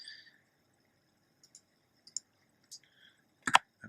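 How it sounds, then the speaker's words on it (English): Sparse plastic computer keyboard clicks, a few isolated taps and short clusters separated by silence, with a louder double click at the end; quiet and close. "Oops, I'm typing in English."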